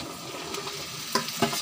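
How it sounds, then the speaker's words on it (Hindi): Okra tipped into a pan of sizzling browned onions while making bhindi sabzi, a steady close fry hiss broken by a couple of sharp stirring clacks. "तो चलिए अब इसमें भिंडी को डालते हैं"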